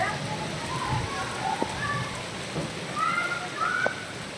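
Light rain patters steadily on surfaces, with faint distant voices and a few birdlike chirps in the background.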